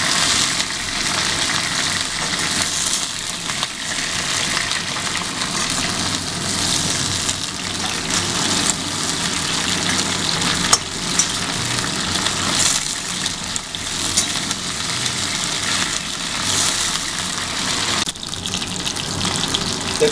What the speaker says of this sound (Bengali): দেখুন কপিগুলো হালকা করে লাল লাল করে ফ্রাই হয়ে এসছে